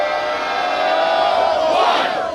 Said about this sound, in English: The crowd of Worcester loves Ichiban